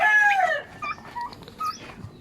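Newly hatched turkey poults peeping close by, a few shrill chirps in quick succession, louder at first and then scattered softer calls.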